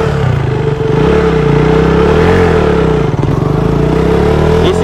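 A KTM Duke 200 motorcycle engine running loud and close, its steady revving drone rising and falling as it pulls off in first gear, with no talk.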